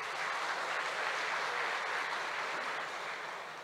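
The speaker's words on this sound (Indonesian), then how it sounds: "Tepuk tangan untuk beliau." Applause for a speaker at a college capacity-building event: a dense, steady clapping from a crowd filling the whole stretch, easing slightly at the end, with no voices.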